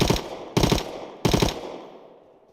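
Three short bursts of automatic rifle fire in the Rust survival game while aiming down sights, each rapid volley loud and close, separated by brief pauses and tailing off with a fading echo.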